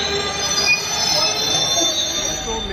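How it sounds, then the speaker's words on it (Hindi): Indian express passenger train pulling into Jaipur Junction, a steady loud metallic squeal of wheels on rails over a low rumble, continuous and close. "फाइनली जयपुर जंक्शन अराइवल हो गई है हमारी ट्रेन"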